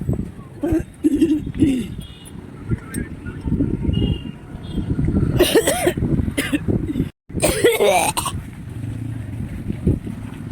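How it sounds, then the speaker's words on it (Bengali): A person coughs several times in short harsh bursts near a railway station platform, with a voice talking around the coughs and some wind noise. "একবার কাশি উঠেছে"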